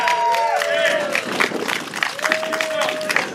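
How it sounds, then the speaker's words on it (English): A political rally crowd bursts into clapping and cheering for a US Senate candidate in Anniston, Alabama, uneven and lively, mixed with raised voices and whoops. "Clap for that."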